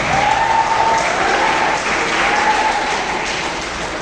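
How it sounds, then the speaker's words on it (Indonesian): Applause from the audience at a creative writing workshop at SMK Plus Al-Maarif Singosari, a loud, dense burst of clapping held steady for the whole few seconds, with a faint voice showing through near the start. "Tepuk tangan, luar biasa."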